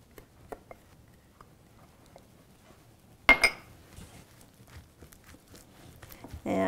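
Boxty batter of flour, spices and egg being mixed in a bowl: a sudden clatter of a utensil against the dish, then softer scraping and tapping that stays quiet and close, with a near-silent lead-in before it.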